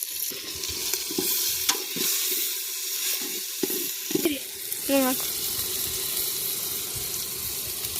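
Vangibath powder is stirred into tomatoes frying in a pan, with spoon scrapes and clinks over a steady sizzle, running water nearby and brief voices in the background.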